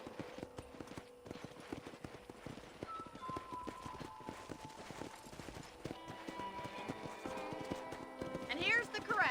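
Horses at a ranch corral in Red Dead Redemption, with hooves clip-clopping steadily throughout and a whinny near the end, while people talk over them.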